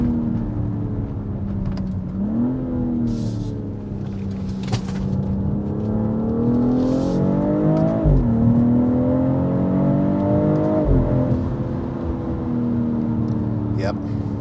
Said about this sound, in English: Nice throttle blips.